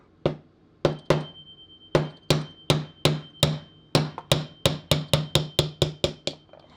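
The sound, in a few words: small hammer tapping on block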